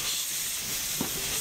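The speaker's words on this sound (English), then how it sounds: "Stoking the fire makes the steam start pumping." Steady hissing steam from a 1929 Baldwin 2-8-2 logging steam locomotive, a continuous loud broadband rush with a faint low thump partway through.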